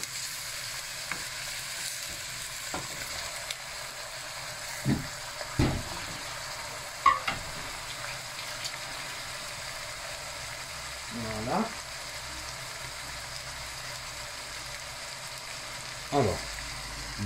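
Pieces of lamb meat fry quietly in a pan for a long stretch, a faint even sizzle broken now and then by a few soft knocks and scrapes of a utensil.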